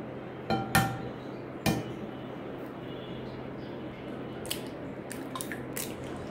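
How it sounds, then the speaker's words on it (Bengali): Eggs for a coconut cake being cracked into a bowl, two sharp close knocks near the start followed by faint drips and small clinks, quiet and alone. "ডিমগুলো এখন ফাটিয়ে বাটিতে নিয়ে নিব।"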